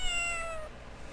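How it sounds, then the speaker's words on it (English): A cartoonish cat meow from the Phoenix Wright: Ace Attorney video game, a single descending harmonic cry lasting about half a second over a steady low background hum, then fading out. "Meow."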